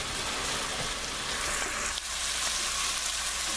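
Vegetables sizzle steadily in a hot pan as they cook for a chicken, red bean and kale dish, a close, even frying hiss with no voices.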